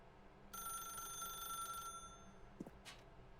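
A telephone in The Stanley Parable video game rings in one continuous electronic burst of about a second and a half, then falls silent, followed by a couple of faint clicks.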